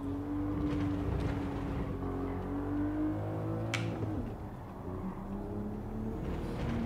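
Race car engine in Gran Turismo 7 running hard at high revs, a steady loud engine drone with harmonic tones that shift in pitch around a gear change, continuous and close with no talk.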